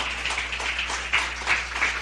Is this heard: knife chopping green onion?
no